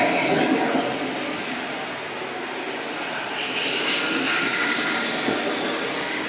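Ice Cobotics i15b floor scrubber running with a steady, broad, droning mechanical hum and a faint rushing hiss, close and continuous throughout with no talk.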